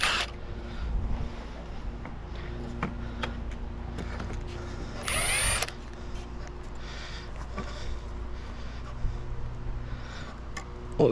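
A drill drives a screw into a wooden tent platform outdoors in one brief, whirring burst of about half a second against wind and faint background noise.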